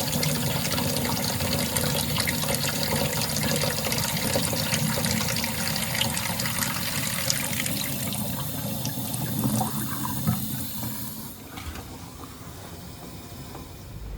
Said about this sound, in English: So we'll run the sink and we'll see what that looks like.